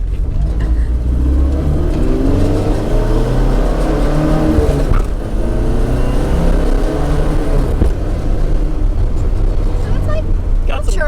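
A 1971 Opel GT drives along with a loud steady engine drone and rising acceleration, heard from inside the cabin while people talk over it.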